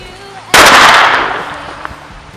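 A single loud firecracker bang goes off after a brief pause, its crackling blast ringing out and fading over the next two seconds.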